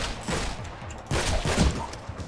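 Gunfire in the Gods Trigger video game, two close bursts of rapid shots with a short gap between them, loud and clear with no talking.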